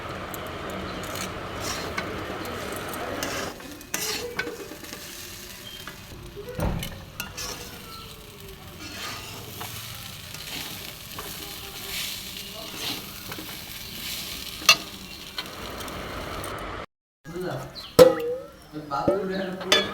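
Broken rice stir-fried with chilli and salt in a village kitchen pan: a soft sizzle with intermittent rubbing scrapes of the spatula, a brief pause, then louder clattering strokes, with a voice talking over parts.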